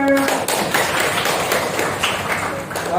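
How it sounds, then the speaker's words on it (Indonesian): A classroom of students applauding in a lesson on the excretory system, a dense burst of rapid hand claps close and loud for a few seconds, with speech mixed in. "Oke, tepuk tangan untuk semuanya."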